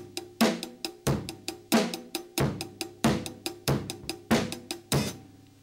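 Drum kit plays a steady run of triplets, evenly spaced sharp hits with a bright cymbal or cowbell-like edge and regular accents, close and moderately loud with no talk.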